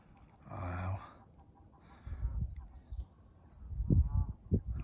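Two cranes at Strumpshaw Fen, a once-extinct bird recently returned there, give a loud bugling call near the start, followed by lower, softer calls and rustling bursts later on.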